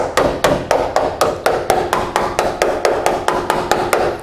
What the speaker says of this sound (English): I'm just going to take a Phillips head screwdriver and I'm going to poke at it like this.